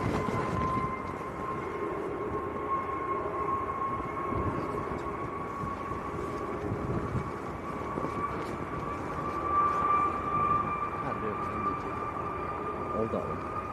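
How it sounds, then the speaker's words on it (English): Jet2 airliner engine being run up in an airport engine test bay, a steady distant roar with a rising whine, heard through outdoor background noise. "there's a Jet 2 in the engine test bay just about to"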